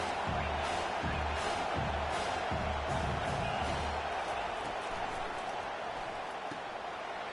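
Home crowd in the NCAA 25 college football video game roaring loudly, a dense continuous wall of cheering with rhythmic thumping early on.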